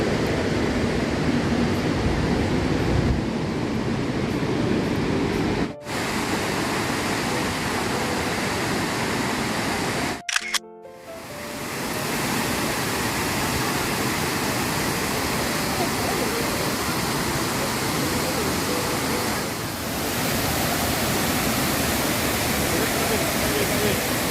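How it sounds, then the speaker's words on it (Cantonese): Shifen Waterfall in Pingxi, Taiwan roars as a dense, loud, continuous rush of falling water, with two brief breaks where the sound cuts out. "到啦，我落去睇下瀑布先。"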